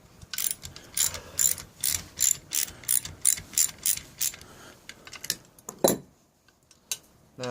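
A hand ratchet wrench clicks in a series of sharp bursts as it undoes a bolt on a pocket bike, close and loud, with an uneven rhythm of strokes and a final clank.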